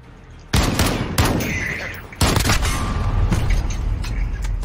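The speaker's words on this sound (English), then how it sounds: "Bro, I'm shooting her!" Modern Warfare gunfire, loud and close, breaking into two long sustained automatic bursts of rapid shots with short booming hits in between.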